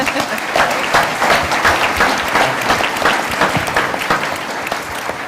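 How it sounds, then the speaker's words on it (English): Live-show audience applauding after a pitch presentation, steady dense clapping from a crowd that swells and holds throughout, with a few scattered voices underneath. "Let's give a big round of applause for Michelle."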